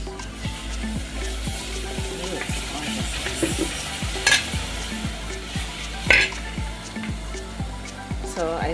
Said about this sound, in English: Our turkey should be done by now. So we can start frying.